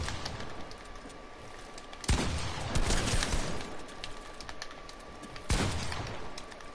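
Video game gunfire: a couple of sharp, loud shots ring out over a steady game backdrop, with a further burst of firing later on.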